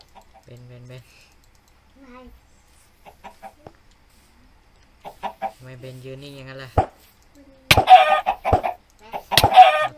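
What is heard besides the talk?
chicken clucking in Minecraft video game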